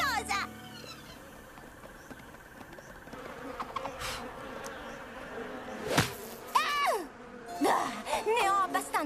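Cartoon flies buzzing around in an animated pony show, a steady insect drone with higher whining passes, with a child-like voice and other voices briefly speaking over the buzz.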